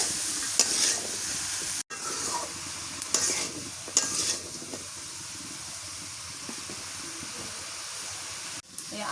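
Potato and bitter gourd stir-fried with dried fish in a pan: a continuous sizzle broken by scraping stirs and clatters, with a couple of brief cuts in the sound.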